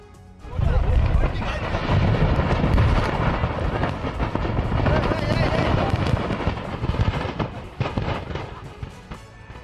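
Explosions at a firecracker factory in the Sattur area of Tamil Nadu, a sustained loud roar of blasts and crackling rumble that holds for several seconds after a sudden onset, with voices mixed in.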